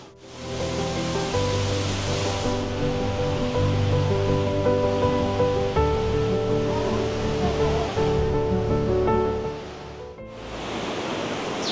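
A large waterfall heard from a walkway passing behind it, a loud, dense, continuous roar of falling water that dips briefly near the end before surging again, with no talking.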